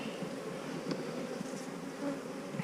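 Honey bees buzz steadily around an opened hive during winter beekeeping work, a dense continuous drone close to the microphone with a few individual bees flying past.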